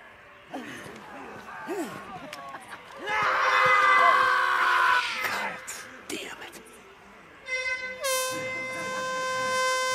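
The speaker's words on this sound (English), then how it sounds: "They use air horns to attract freaks." A loud, sustained air horn blares in the game Days Gone, sounded by the Ripper cult to draw freaks, with stacked harmonic tones, rising toward the end over game sounds and a brief burst of speech.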